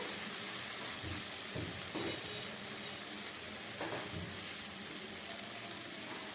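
Patol (pointed gourd) curry sautéing in a pan on very low gas, a steady close sizzle with soft stirring scrapes and faint watery bubbling throughout.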